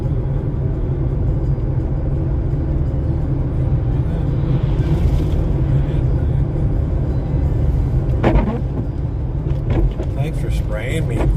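A big truck passes on a snow-covered road after a snowstorm, a heavy continuous rumble with a swell of hiss and spray toward the end, heard from inside a vehicle.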